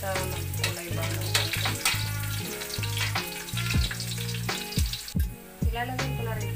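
Garlic frying in a hot pan for Chicken Bicol Express, a loud, steady close sizzle with crackling pops and occasional spoon scrapes and stirring knocks throughout, no talk.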